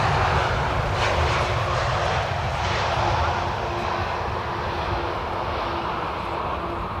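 An airliner arriving at Amsterdam Schiphol Airport on a sunny, crosswindy day produces a loud, sustained jet roar that swells slightly and holds, close and broad, with no clear talk over it.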